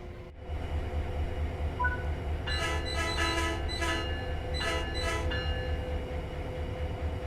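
Passenger train departing in the video game Train Sim World 5, the horn sounding in a series of short repeated blasts over a steady low engine and rail rumble.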